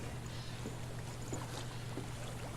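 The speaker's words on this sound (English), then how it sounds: "I hear water." Gentle flowing water in Hellblade: Senua's Sacrifice, a steady faint trickling and babbling stream over a low hum, continuous and distant with no voices.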